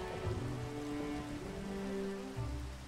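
Rain falling in Minecraft, a soft, steady patter of drops with a low background hiss, fairly faint and continuous, with a few low tonal hums running beneath it.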